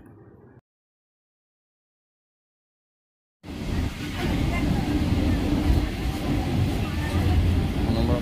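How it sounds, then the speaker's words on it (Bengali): A Canning local train pulls out of Jadavpur station with a steady rumble and rattle that begins after a few seconds of silence and then holds at a constant level. "যথাসময় ক্যানিং লোকাল রওনা হয়ে যায় ক্যানিংয়ের উদ্দেশ্যে।"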